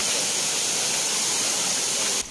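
Mountain stream flowing over rocks in the mountains of DRT, Bulacan: a steady, loud, broadband rush of water close by, continuous and unbroken, with no voices.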